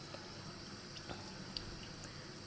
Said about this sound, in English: Get the water ready for you, so you can water it down because it gets really thick.